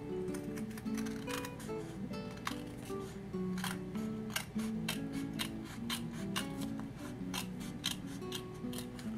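Scissors snip repeatedly through fabric while a craft peacock feather is cut out, with sharp, close cuts in a steady, uneven rhythm over a low background hum.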